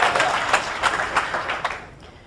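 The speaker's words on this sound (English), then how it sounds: "I want to hear a round of applause." A brief round of applause from a TEDx audience, dense clapping that carries on steadily and then fades out toward the end.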